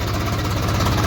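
A new tractor engine runs steadily up close, a loud low throbbing idle with a rhythmic knocking pulse and no pauses.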